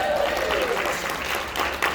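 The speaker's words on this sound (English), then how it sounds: "Round of applause, right?" A luncheon audience at a keynote event gives a round of applause, a dense, even patter of clapping heard under and alongside talking.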